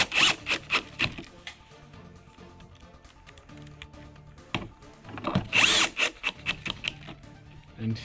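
Screws driven into a VESA monitor mount with a power drill, several short whirring bursts near the start and again around the middle, close and fairly loud with quieter handling noise in between.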